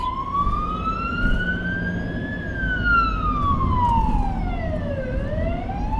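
A siren wails steadily, its pitch sliding up then sweeping down as it passes, loud and fairly close over a low traffic rumble.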